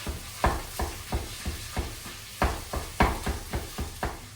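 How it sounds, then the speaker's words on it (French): Ground beef frying in a pan while a utensil breaks it into small pieces for chili-style tacos: a steady sizzle punctuated by regular scraping, tapping strokes about every half second, close and clear, with no talk. "On va ajouter le hachis, enfin le haché. Et là, on va le casser en tout petits morceaux, d'accord?"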